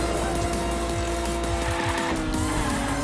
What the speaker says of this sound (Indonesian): Wah, driftnya nggak secantik mobil yang pertama ya.